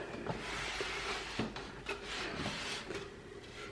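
A wooden drawer of an orchard storage rack holding butternut squash slides out with a soft rubbing scrape and a few knocks and thumps, close by and fairly quiet.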